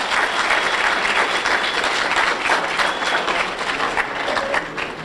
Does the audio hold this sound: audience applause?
yes